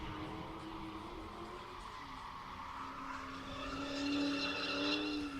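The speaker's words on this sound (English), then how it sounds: "Definitely got an exhaust kit on it because they didn't sound this good from the factory." A Mustang drift car with an aftermarket exhaust kit drones from a distance, its engine note holding steady and then climbing louder as it revs harder, with faint squealing above.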